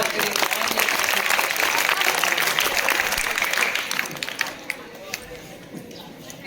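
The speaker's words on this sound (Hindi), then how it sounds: "तालियां बजाओ उसके लिए।" A crowd applauds steadily at a quiz competition, with dense clapping that gradually thins and fades toward the end, some scattered claps lingering.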